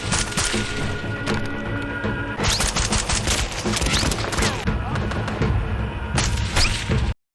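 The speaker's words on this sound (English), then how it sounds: "Gunshots fly inches from him as he takes cover behind some rocks once more" Dense, sustained gunfire with rapid overlapping shots and bursts, loud and continuous, punctuated by sharper cracks and thuds throughout.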